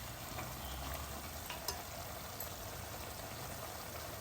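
Minced meat keema frying in a pan for a Hyderabadi kichidi kheema khatta, a steady low crackling sizzle that runs without a break throughout, with a faint clink or two partway through.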